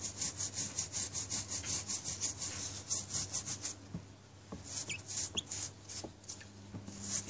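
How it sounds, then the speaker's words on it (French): Stiff bristles of a horse grooming brush being scraped clean of dirt, a rapid run of brisk rasping strokes followed by slower, scattered scrubs and a few small taps. "je brosse la brosse, les poils de la brosse"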